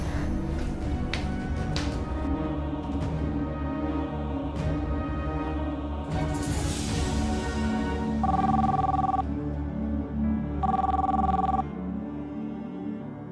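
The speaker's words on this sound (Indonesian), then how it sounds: "Bi Asri, angkat telepon cepetan." An indoor telephone rings twice in short, evenly spaced bursts over a busy background of dramatic music and ambience.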